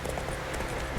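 Hooves of Roach, the horse in The Witcher 3, clip-clop steadily at a trot, close and continuous over a short stretch of game ambience.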